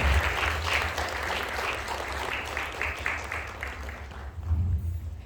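Audience applause at a student music awards ceremony, a continuous patter of many hands clapping at moderate loudness, tapering slightly toward the end with a few low thumps.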